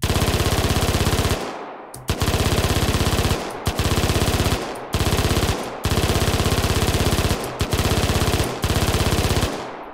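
Rapid-fire weapon sound effect for fast-firing guns in an Unreal Engine Quartz test: loud, dense automatic bursts of a few seconds each, separated by brief pauses, with no talking.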